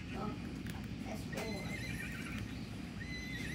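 A horse neighs in the Roblox game The Wild West, a whinny heard over steady game ambience along with hoof clip-clops while someone talks.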